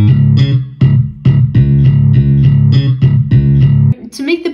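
Slap bass and muted bass layered together in a produced track, a steady rhythmic bass line with sharp note attacks, loud and close, ending with a brief brighter burst near the end.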